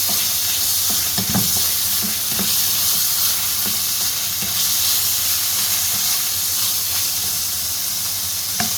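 Curry paste stir-fried in a hot pan for a Thai curry stir-fry, giving a continuous loud sizzle and hiss with occasional scraping stir strokes, close and with no talking.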